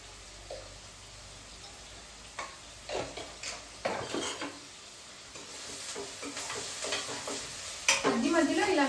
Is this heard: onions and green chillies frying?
yes